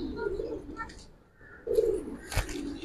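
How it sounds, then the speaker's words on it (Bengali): A male Giribaz pigeon of black-necked silver colouring coos in soft, low, rolling phrases close by, with a pause between two bursts and a brief sharp knock near the end. "এটা একটা নর কবুতর"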